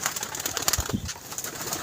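Pigeons coo at a pigeon club, soft low cooing notes close by over a noisy background with other bird sounds.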